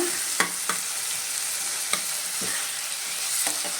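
Chopped medium tomato frying in a pan for radish sambar, a steady close sizzle with a few sharp spatula scrapes and taps spaced through it, no voices.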